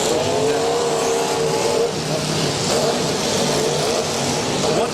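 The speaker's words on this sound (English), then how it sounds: "Racing engines." Demolition derby race cars at a county derby roar continuously, a dense, loud wash of revving engines with no break throughout.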